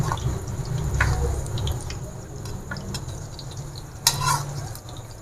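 Boiled mutton chops browning in a pan, a soft steady sizzle with occasional light scraping and clinks of a utensil against the pan, including one sharper clatter near the end.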